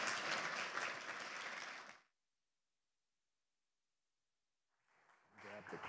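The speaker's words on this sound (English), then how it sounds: "why don't we give a big warm welcome and a big round of applause for Chris and Peter" An event audience applauds loudly to welcome the speakers, then the clapping cuts to silence before a voice starts speaking.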